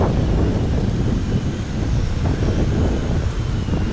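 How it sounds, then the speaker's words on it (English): Strong gusting wind buffets the microphone out on the water during a bass fishing session, a loud continuous rumbling roar with no pauses. "Wind really picked up on me too here."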